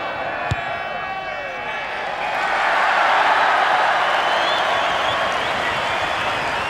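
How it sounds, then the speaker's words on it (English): A rugby stadium crowd cheers during a 1992 New Zealand v World XV test match, a broad roar that swells after a couple of seconds and holds steady, with a commentator's voice nearby. "Big cheer for Grant Fox."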